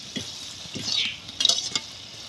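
Covered pan of corn kernels popping in hot oil, a soft sizzle with a few bright crackling bursts and scraping clatter partway through, no voices present.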